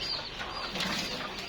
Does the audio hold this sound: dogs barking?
no